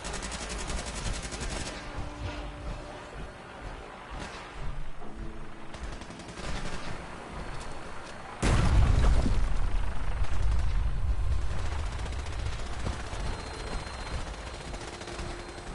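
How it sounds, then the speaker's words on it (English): Sustained machine gun fire in the video game Wasteland 2, a steady crackling stream of shots that grows louder and heavier about halfway through, with no talking. "Shooting at something over here."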